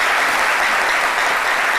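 A studio audience on a French midday television show claps steadily, a dense, even burst of applause with no one talking over it.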